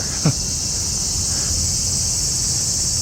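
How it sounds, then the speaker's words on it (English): A steady, high-pitched cicada drone hums continuously throughout in summertime Shinjuku, Tokyo, with a faint brief chirp near the start over low background rumble. "Obviously it is still summertime. You can tell by the cicadas."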